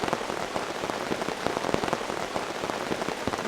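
Heavy rainstorm pouring onto a blue tarp at a campsite, a dense, steady roar of drumming drops with sharp louder splats throughout, close and loud, with no voices.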